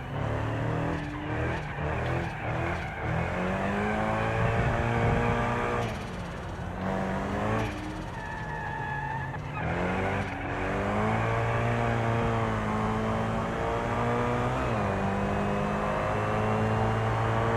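Race cars in a BeamNG.drive race against two opponents, engines revving up and down through gear changes with rising and falling pitch, tire squeals and skids, a loud continuous close drone throughout.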